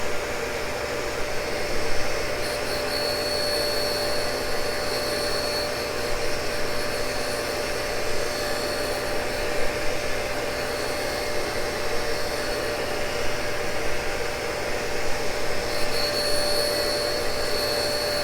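Cincinnati tool and cutter grinder grinding a Morse taper, a loud steady whine and hiss that runs continuously close by without a break.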